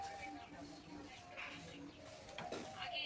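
A lone pigeon in a cage coos softly and repeatedly, with a faint background murmur of voices and ambient noise throughout.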